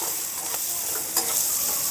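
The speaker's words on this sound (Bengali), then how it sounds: "লবণ, হলুদ, আবারও মশলাগুলো ভালো করে মিশিয়ে নিতে হবে" Salt, turmeric and spices being stirred into a hot pan for suji upma: a steady, bright sizzle with soft scraping strokes of the spoon, one slightly sharper scrape near the end, close and continuous with no talking.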